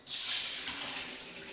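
Soaking water poured out of a bowl of seeds into a sink, a sudden splashing gush that starts at once and then tails off into a steady, close trickle.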